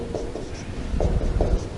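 Chalk or marker writing on a board during a Hindi-language calculus lesson on limits, with close, scratchy strokes in three short bursts and no talking.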